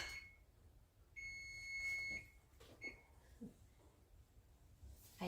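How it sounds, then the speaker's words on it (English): A kitchen timer beeps while a pot of sauce cooks, giving a few short high electronic tones set against a quiet room with faint clattering. "that was my timer that is ready"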